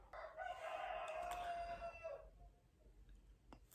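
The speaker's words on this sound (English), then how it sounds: "There's your serenade by the rooster outside." A rooster crows outdoors, one long drawn-out call lasting about two seconds at moderate distance, followed by quiet ambient background.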